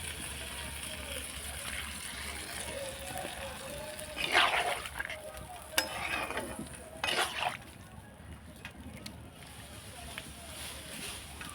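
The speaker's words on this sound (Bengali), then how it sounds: "এবার আমি পরিমাণ মতো জল দেব।" Water is poured into a pan of prawn and cauliflower curry, giving a few short splashing, sloshing bursts over a steady low background hum.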